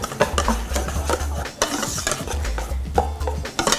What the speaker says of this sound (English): I'm just going to mix that up with my whisk, my hand whisk here.